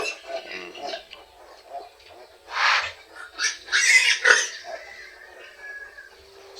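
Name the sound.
native sow pig grunting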